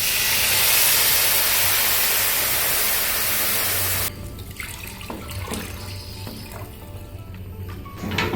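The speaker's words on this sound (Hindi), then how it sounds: "और अब मैं डालती हूँ पानी।" Water pours into a hot cooking pot with a loud broad rushing hiss of steam and splashing, then settles into a quieter sizzling bubble with scattered clinks.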